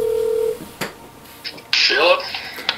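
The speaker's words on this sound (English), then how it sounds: "Let's, let's give him a call." Telephone dialing for a call: a steady dial tone leads into dialing sounds, followed by faint voices and line noise toward the end.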